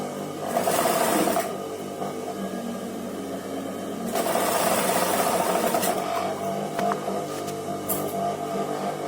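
A sewing machine stitches a frock sleeve in steady, close whirring runs. A louder burst comes early, a pause follows, then a longer stretch of stitching with a few small clicks, and no one speaks.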